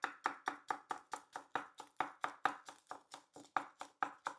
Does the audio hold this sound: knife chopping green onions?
yes